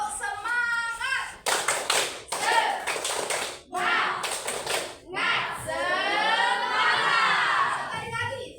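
A group of children performing the 'tepuk semangat' rhythmic clap in a classroom setting, bursts of loud patterned clapping mixed with an adult voice and children chanting along.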